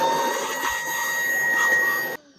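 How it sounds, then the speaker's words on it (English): An ESD vacuum cleaning dust out of the floppy drive of a 2001 IBM NetVista computer gives a steady, close, whining motor roar with a high tonal hum, cutting off abruptly near the end. "So the first thing I'm going to do is get that all cleaned out just by using the ESD vacuum."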